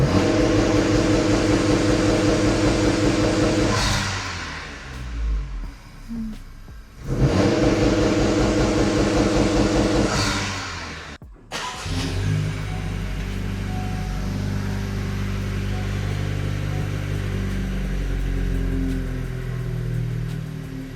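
Engine of a 2025 Honda Civic Si on its first start, a loud droning run that drops away twice, then comes back and settles into a steady lower idle, with no talking.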